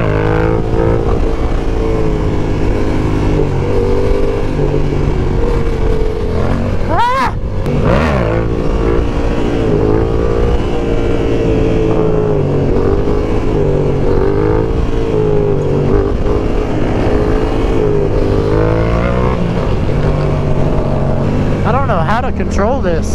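A Yamaha R7 motorcycle hums along steadily while being ridden, engine tone loud and continuous with slight pitch swings, and people talk over it throughout.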